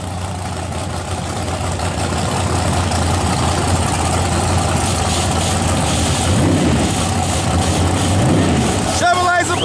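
Big block nitrous-aided Chevrolet race cars idle loudly at a drag racing shootout, a steady low rumbling drone throughout with an announcer talking over it.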